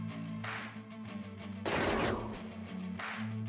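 Rimworld battle gunfire, with sharp bursts of automatic fire breaking out repeatedly over a steady droning game music bed, close and fairly loud with no voices.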